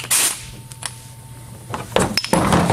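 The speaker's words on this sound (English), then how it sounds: "to our impact gun." Pneumatic impact gun working on an agricultural tire rim: sharp, loud hissing bursts and rattling hits at the start and again near the end, with quieter clanks between.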